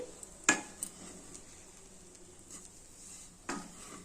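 Broad bean curry cooking in a pan on a low flame, a soft steady sizzle with a couple of sharp spoon or utensil clinks against the pot, close and fairly quiet.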